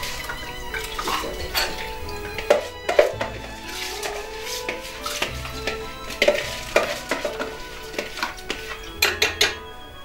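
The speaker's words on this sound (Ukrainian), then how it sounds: "Висипаю в казану." Rice poured from a bowl into a pot of boiling milk, with scattered clinks and rattles against the metal over a soft simmer, faint music underneath.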